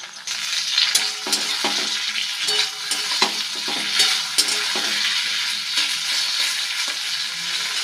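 Mixed sauces hit an egg chili frying in a pan, giving a loud, close sizzle with repeated sharp crackles and spatters over a steady hiss, with no talking.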